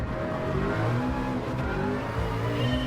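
A pack of prototype race cars launches from the start in Gran Turismo Sport, with loud, layered engine drones revving and rising together.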